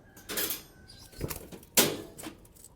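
Flight pigeons, a recently acquired male and female pair, give a few soft bursts of wing flapping and rustling up close, with quiet gaps between the bursts.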